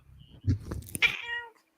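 A cat meows once, loud and close, a short drawn-out call with no other sound around it.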